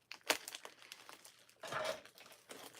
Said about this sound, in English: Miss Sissy, does yours come in bubble wrap when you get your beads like this?